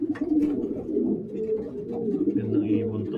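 Pigeons coo softly in a low, rolling murmur, with faint rustles and distant chirps in the background, and a voice speaks over it.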